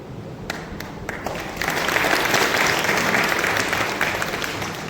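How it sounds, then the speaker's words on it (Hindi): An audience at a church gathering in Chhattisgarh claps, starting with scattered claps that swell into steady, loud applause from a crowd, close and continuous. "बाकी लोगों ने तो ऐसे ताली बजा दी।"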